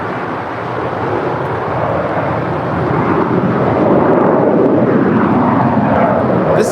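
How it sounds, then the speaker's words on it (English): An eight-year-old American Airlines Airbus A321 departing, a loud broad jet roar that builds steadily and holds, close and alone. "This is American Airlines Flight 1721 departing to Charlotte. It's an 8-year-old Airbus A321."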